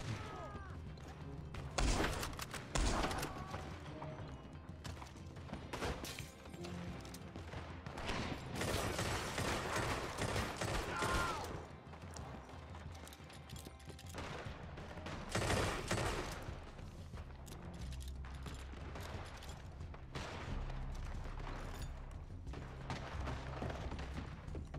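Gunfire in Red Dead Redemption 2 during a chaotic Christmas mansion shootout: dense, loud volleys and rapid bursts of shots crackle almost without pause, mixed with thuds and crashes.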